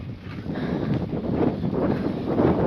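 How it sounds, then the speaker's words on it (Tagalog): Strong wind buffets the microphone in a steady low roar, rising and gusting slightly, with no voices. "Lakas ng hangin eh"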